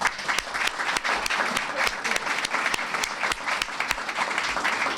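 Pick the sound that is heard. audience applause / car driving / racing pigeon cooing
audience applause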